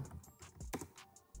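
A computer keyboard types out a short command in a quick burst of light, close key clicks, with a soft thump near the end.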